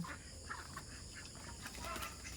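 Egg-laying domestic ducks on a farm in the Philippine countryside give soft, scattered clucking calls against a steady, faint background.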